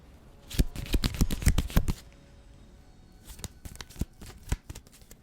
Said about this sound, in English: Do you like when we shuffle the cards?